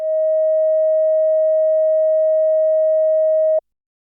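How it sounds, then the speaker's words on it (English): A Behringer Pro-1 analog synthesizer holds a single clean sine tone, loud and unwavering with slight harmonic dirt, for about three and a half seconds before cutting off abruptly into silence. "But that fundamentally is a sine wave."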